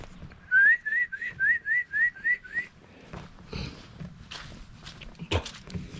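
A person whistles while inhaling, a quick run of about eight short rising notes, then stops, leaving soft shuffling and movement sounds.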